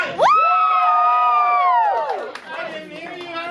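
A live audience at an evening show cheers and screams loudly in a sustained burst of high voices, peaking early and holding for about two seconds before fading into scattered shouts and crowd chatter.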